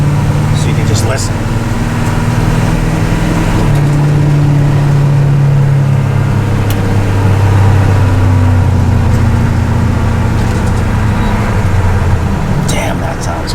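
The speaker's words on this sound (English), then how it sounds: "I'm gonna pork it, and then I'm gonna take my foot off the gas so you can just listen" A GM 6.2 diesel with an aftermarket exhaust revs up loudly and then winds down as the throttle is released, a steady low engine drone throughout with a voice speaking over it.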